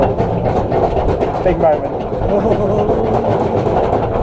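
A roller coaster train at Lightwater Valley theme park rumbles and clatters steadily along its track, loud and continuous, with riders talking over the noise.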